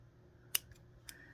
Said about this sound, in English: You'll have to be forceful with those scissors.